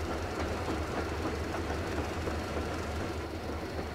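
A steady rumbling train engine in the video game Metro Exodus, with a low drone and faint rhythmic clatter, continuous and fairly loud throughout.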